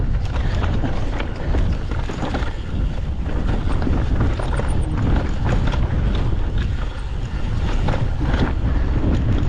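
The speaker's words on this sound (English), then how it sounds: "Need to try and get out of this wind, just a bit chilly." Strong wind buffets the microphone on an exposed Lake District hillside near Wetherlam during a mountain bike ride. It makes a continuous loud, rushing roar that swells and dips, with no talking.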